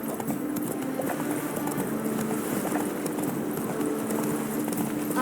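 A horse gallops in The Witcher 3, its steady clip-clop hoofbeats running continuously under a constant game soundscape.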